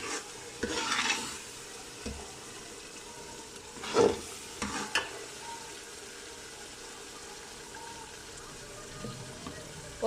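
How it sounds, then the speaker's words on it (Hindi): Ginger and garlic with tomatoes frying in a pan for chicken biryani sizzle steadily up close, while a spoon stirs and scrapes in several bursts and a knock near the end; no one speaks. "अब इसको अच्छे से मिक्स कर दें ताकि ये अदरक लहसुन है जो ब्राउन हो जाए।"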